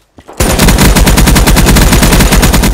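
Sustained automatic gunfire from a Call of Duty Black Ops 3 match, loud and close, with rapid continuous bursts after a brief quiet lead-in and no talking.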